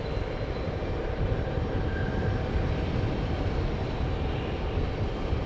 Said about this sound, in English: let's go to JetBlue. It's about to touch down here.